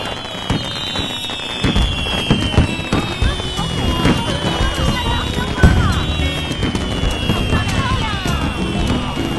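Fireworks going off in a steady, dense barrage of crackling bursts and whistling rockets, loud and continuous with sharper bangs throughout, set off at night in a historical drama setting.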